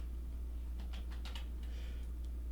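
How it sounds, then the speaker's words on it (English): Quick light keystrokes on a computer keyboard while writing Python code, a short irregular burst of clicks over a steady low fan hum. "a lot of typing here, folks"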